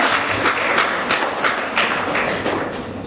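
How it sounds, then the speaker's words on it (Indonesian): Audience applause at a university seminar on lifestyle journalism, a dense, steady patter of many hands clapping at close range, continuing evenly throughout with no voices over it. "tepuk tangan ya."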